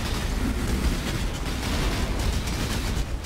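Dense, continuous rumbling blasts fill the sound, explosions overlapping with no pause, in the video game Path of Exile.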